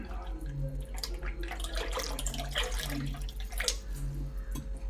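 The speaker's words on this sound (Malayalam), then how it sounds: "ഇനി നമുക്കിതിലേക്ക് തൈര് ഒഴിച്ചു കൊടുക്കും" Yogurt poured into a pot of yellow buttermilk curry (moru curry): a steady, close liquid pour and splash lasting throughout, with a low steady hum underneath.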